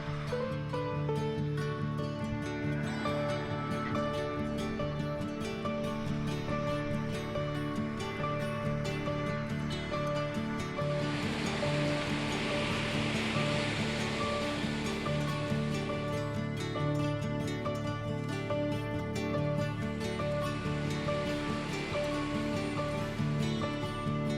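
A North Carolina waterfall roars in a steady, dense wash of rushing water that holds constant throughout, loud and unbroken with a brighter hiss swelling in the middle.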